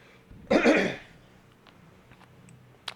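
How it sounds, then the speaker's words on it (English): A single sharp cough, close and fairly loud, followed by quiet room noise with a few faint clicks. "Pardon that cough."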